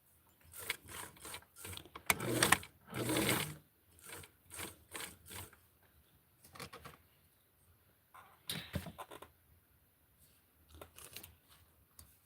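A sewing machine stitching a doll's dress, in short bursts of rapid mechanical chatter separated by pauses, close and fairly quiet.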